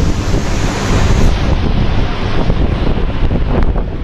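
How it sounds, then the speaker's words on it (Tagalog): Strong wind during a snowstorm buffets the microphone in a constant loud roar, with a rushing, surf-like rumble underneath and no voices. "Ang lakas ng hangin, no?"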